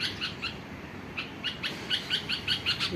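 A bulbul near its nest gives a series of quick, bright chirps, spaced closely and rising in frequency toward the end, over a soft outdoor background.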